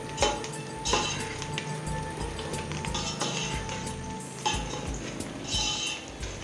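A metal spoon scrapes and clinks against a cooking pot as coriander is stirred into oil for a drumstick biryani, with repeated close, sharp clatters and a soft sizzle underneath.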